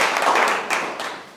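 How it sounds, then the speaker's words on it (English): Brief clapping from an evening talk audience, a short burst of hands patting together, fairly close and clear, fading over little more than a second. "Yes, you should give yourselves a round of applause."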